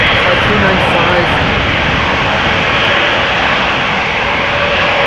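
An Airbus A320neo jet roars loud and close at Amsterdam Schiphol Airport, a steady broadband engine rush holding through the whole stretch.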